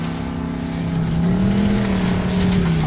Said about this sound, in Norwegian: Over tusen hestekrafter I denne bilen. Svær turbo, matet V8-motor.